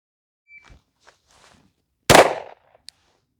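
A single sharp, loud Glock 19 pistol shot fired at a target at an outdoor range, preceded by faint handling clicks and followed by a short decaying echo.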